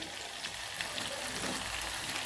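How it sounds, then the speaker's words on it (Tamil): Small onions, black pepper and cumin fry in hot oil for a tamarind vathal kuzhambu, giving a steady, close, even sizzle and crackle throughout with no voices. "சின்ன வெங்காயம், மிளகு, சீரகம் எல்லாம் போட்டு நல்லா பொரிஞ்சு"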